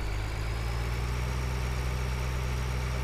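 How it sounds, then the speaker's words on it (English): A tractor engine runs steadily at idle, a low throbbing drone with mid-range vibration that holds constant and close throughout, with no talking over it. "I'm bringing my other tractor over"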